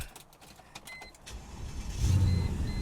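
A Mercedes ML, an AMG model, starts up outdoors: clicks and rattles come first, then the engine catches about two seconds in and settles into a loud, steady low rumble up close.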